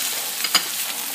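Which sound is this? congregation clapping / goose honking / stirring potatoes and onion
stirring potatoes and onion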